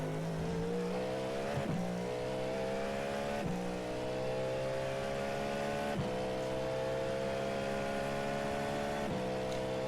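Cadillac GT race car in iRacing at the 24 Hours of Le Mans, engine revving hard at full throttle with steady rising pitch sweeps broken by quick upshifts, loud and continuous with no one talking.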